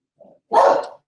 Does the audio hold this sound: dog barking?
yes